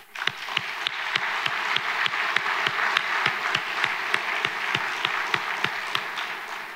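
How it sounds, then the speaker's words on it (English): An audience at an annual meeting applauds, a dense, steady wash of many hands clapping in a large room, with a sharper close clap repeating rhythmically throughout. "Can we have a round of applause?"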